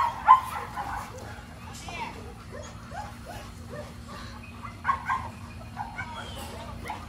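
Several loose American Bully dogs yip and bark in short, scattered bursts, some sharp and close, others fainter, with people's voices mixed in.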